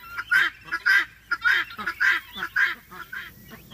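Newly arrived guinea fowl in a crate make repeated loud, harsh honking calls, around eight in under four seconds, close by with no speech.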